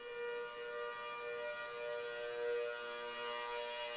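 A Federal Signal 810 tornado civil defense siren holds a steady, eerie chord, sustained and moderately distant, with no pauses or voices.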